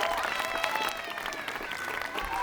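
Applause from a theatre audience during a stage show, steady and moderately distant, with some crowd noise mixed in throughout.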